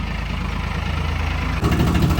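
A tractor engine idles with a low, steady chugging throb on a cold day, growing a little louder and rougher near the end.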